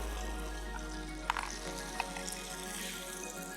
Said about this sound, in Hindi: ये आँच को धीमा कर देंगे और इसको हम फ्राई होने देंगे।